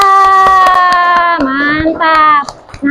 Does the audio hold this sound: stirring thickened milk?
no